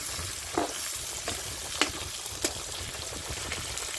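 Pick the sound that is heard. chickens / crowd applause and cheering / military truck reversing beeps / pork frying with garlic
pork frying with garlic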